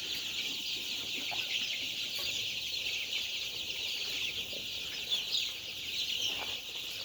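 A group of young chicks keeps up continuous high cheeping and soft clucking while they scuffle playfully together, with small flurries of activity close by.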